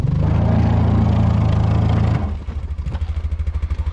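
A UTV engine on a snowy hill revs hard in a steady loud drone, then drops off and settles into a rhythmic chugging pulse as it fails to climb, close and without talk.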